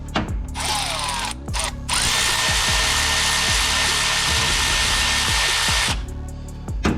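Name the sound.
loosening an alternator belt tensioner on a Toyota Corolla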